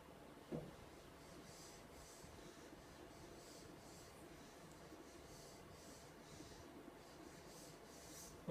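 Pen scratching out a PEA cardiac waveform by hand on paper, a faint, soft continuous scribbling close by in a quiet room, with one small tap near the start.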